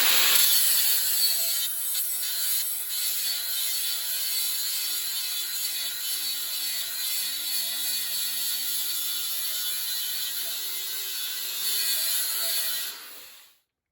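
A mini grinder bevels the edge of a metal weld seam, giving a steady, continuous high-pitched grinding whine with a rasping, ratchety texture that holds close and loud for about thirteen seconds before cutting off abruptly.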